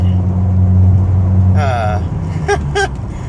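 A Ford Focus driving on the road on a Missouri trip, its steady low engine hum and road noise running close and loud throughout, with a brief whine and a few short beeps near the end.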